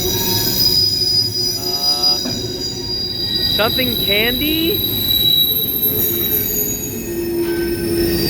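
An empty CSX coal train creeps slowly through Sykesville, its wheels squealing in sharp, wavering bursts over a steady low rumble of rolling cars, heard up close, with a brief spoken remark nearby.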